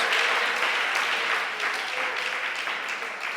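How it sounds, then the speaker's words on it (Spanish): A church congregation applauds together in a steady, dense wash of clapping that holds for a few seconds, fairly close and even, with no voices on top. "Dele aplauso al Señor."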